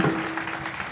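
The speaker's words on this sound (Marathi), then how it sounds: "एकदा जोरदार टाळ्या झाल्या पाहिजे त्यांच्यासाठी" Audience applause at a Marathi kirtan program: a short, dense burst of clapping from a crowd, close and steady, lasting under a second.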